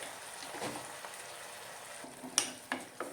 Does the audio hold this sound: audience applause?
no